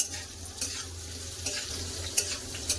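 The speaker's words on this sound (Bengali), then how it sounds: "এপাশে তো আলু ভাজা হচ্ছে" Potatoes fry in hot oil in a wok, a constant close sizzle broken by a few sharp scrapes and clinks of stirring.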